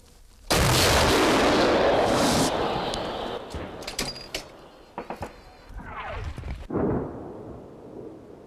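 A heavy artillery gun fires, booming loudly and rolling out into a long echoing rumble, followed by clanking metallic sounds nearby, at a Ukrainian frontline firing position.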